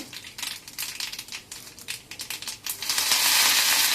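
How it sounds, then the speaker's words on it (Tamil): Mustard seeds and split urad dal hit hot oil for a South Indian tempering, giving irregular crackling pops that build into a dense, loud spluttering hiss toward the end. "இப்போ தாளிசம் பண்ண போகிறோம். கடுகு, உடைச்ச உளுந்து"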